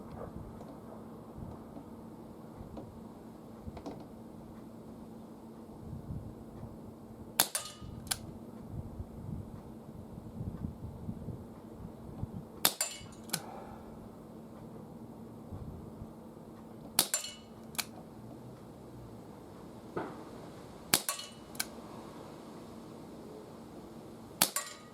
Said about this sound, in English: I'm going to do 6 shots freestanding and see how we do.